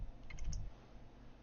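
A few quick, soft computer keyboard clicks land close together and then fall away to near silence as a watermark is typed.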